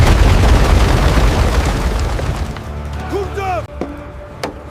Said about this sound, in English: But the Ottoman guns kept firing, and the ancient walls began to crack.